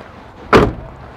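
A single short thud of a 2003 Ford truck door, sharp and fairly close, against a quiet background.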